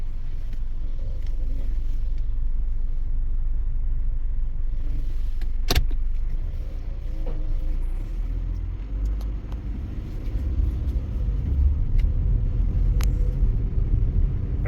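A car with a CVT transmission drives up a road, its low engine and road rumble holding steady throughout, with a brief sharp click partway through and a slight swell in the drone toward the end.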